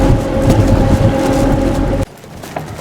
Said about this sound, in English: And here comes a panga with a pangarero.